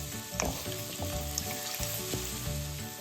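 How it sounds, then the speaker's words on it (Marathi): Chopped onion fries in a pan for a traditional Maharashtrian onion curry, a steady close sizzle with occasional clinks and stirring scrapes. "आता कांदा आपण चांगला गुलाबी रंगावर परतून घेऊयात"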